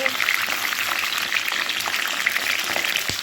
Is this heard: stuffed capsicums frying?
yes